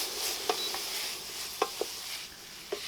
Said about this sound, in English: now we're going to go ahead and drop our zoodles in. Boom. Quick toss.